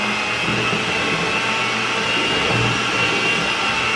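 A small electric hand mixer whirs continuously, close and steady, beating cream cheese, lemon juice and sweetened condensed milk into a lumpy mixture.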